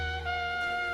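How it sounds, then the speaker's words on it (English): A sustained brassy trumpet tone holding steady with a bright harmonic stack, slightly muffled, playing alone for about a second. "There's a trumpet sound, which sounds like this."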